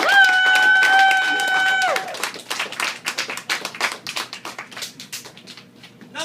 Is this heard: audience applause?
yes